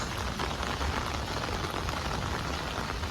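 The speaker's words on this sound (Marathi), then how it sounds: "खूप मुसळधार पाऊस सुरू आहे" Dense, steady monsoon rain pours down at Ellora Caves in a continuous loud hiss with no pauses or voices.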